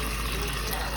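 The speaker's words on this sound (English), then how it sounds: "Rinse well." Husked tomatillos rinsed under a running tap for salsa verde, a steady close rush of water splashing over the fruit for the full second.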